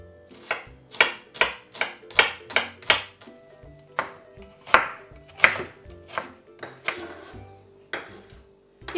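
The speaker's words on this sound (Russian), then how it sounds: "Одну крупную луковицу также нарезаю кубиком." A large onion being diced into cubes on a cutting board: a steady series of crisp knife chops landing close by, some quick and regular, others spaced out, with no talking.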